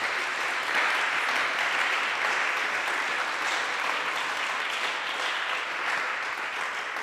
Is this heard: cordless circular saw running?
no